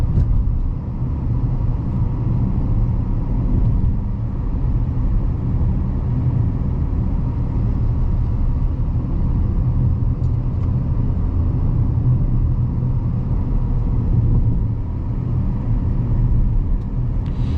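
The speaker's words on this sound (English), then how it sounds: "we'll see how this Equinox puts the power down here." Inside a 2025 Chevy Equinox with a CVT climbing steep neighborhood hills, a loud, steady low engine and road rumble drones continuously at low RPM, without any talking.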